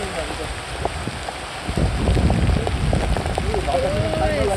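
Rain pours onto a roof in a Bangladeshi village, a constant close hiss of drops that thickens halfway through, with some wind and faint voices in the background.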